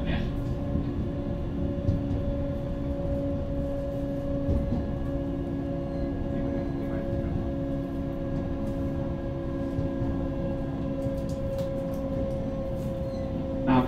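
JR West 223-0 series electric train with Toshiba GTO traction equipment on a Hanwa Line rapid service, a steady loud interior running drone with constant motor whine and rumbling wheels throughout.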